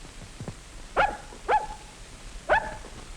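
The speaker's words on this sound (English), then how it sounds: "The dog" A dog barks three times in separate sharp yips, moderately close, over a faint background hiss with no talking.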